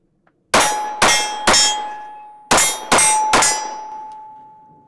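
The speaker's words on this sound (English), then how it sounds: "So first rounds through the gun, shoot a couple strings here, see how it feels in the hand." Six sharp, loud shots from a compact 9mm handgun, fired in two quick strings of three with about half a second between them. Each report rings out and decays, with a faint metallic ring trailing behind.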